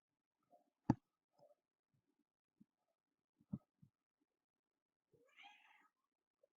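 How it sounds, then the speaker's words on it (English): A domestic cat meows once near the end, a sad, drawn-out tonal call standing alone after a few scattered clicks and soft knocks indoors. "My cat just meowed and it sounded really sad"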